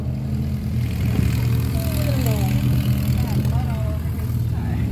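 A small airplane's engine runs up hard at Cedar Key, Florida, trying to break free, a loud steady drone with propeller buzz, while people talk over it throughout.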